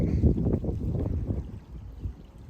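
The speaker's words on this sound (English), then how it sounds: "Wind's picking up." Wind gusting outdoors near a cabin building site, a steady low rumbling buffet against the microphone for a couple of seconds, with no voices.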